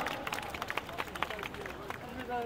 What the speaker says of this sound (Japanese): 渋谷区横浜宮古台の皆さんに大きな拍手をお願いいたします。